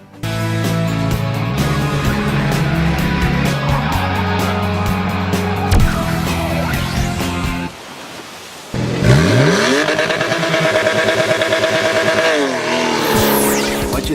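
A loud 2013 Nissan Pathfinder V6 engine roars and accelerates through gears, with a brief lull before it revs up again, pitch climbing and falling as it drives.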